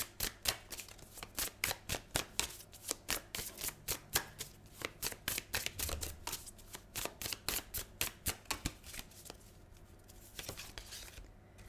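Tarot cards being shuffled by hand give a fast, steady run of crisp riffling snaps and papery slaps, close and continuous, with no talking.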